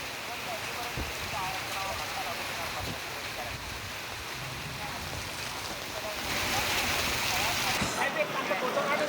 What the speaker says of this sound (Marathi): जोरदार पावसानं अचानक हजेरी लावली